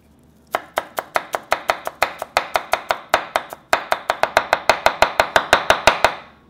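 Two cloves of garlic minced with a knife on a cutting board for a Korean seaweed salad, about thirty rapid, even chops in a steady rhythm, close and crisp, with no talking.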